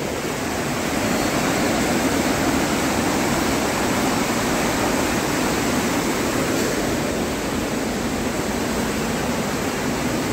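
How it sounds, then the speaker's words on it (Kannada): A river beside a temple surges forcefully, its water roaring as a loud, steady, dense rush that stays close and constant throughout, with no voices over it. "ಸೌಂಡ್ ಬರ್ತಾ ಇದೆ ನದಿದು ಯಾವ ರೀತಿ ನೀರು ಫೋರ್ಸಾಗಿ ಬರ್ತಾ ಇದೆ ಅಂತ."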